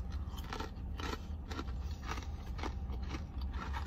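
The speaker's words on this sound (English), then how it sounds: "It has a good crunch factor." Garlic bagel chips are bitten and chewed close to the mic, with a steady run of dense, crackly crunches throughout.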